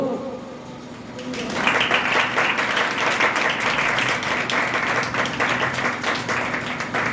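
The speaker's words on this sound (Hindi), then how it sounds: "यीशु की तालियां लगा दो।" Congregation clapping during a church service, with applause swelling in after a preacher's voice and continuing steadily, loud and sustained.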